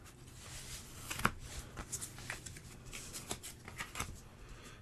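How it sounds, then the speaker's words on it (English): Playing cards for the board game Kingdom Legacy drawn from a deck, a series of soft papery slides and flicks at an uneven pace, close and quiet with no speech. "Then I draw 4 more cards."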